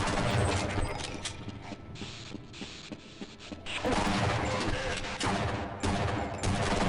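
Bursts of gunfire in Half-Life: Blue Shift, loud rapid automatic shots with mechanical clatter, easing briefly in the middle before heavy firing resumes.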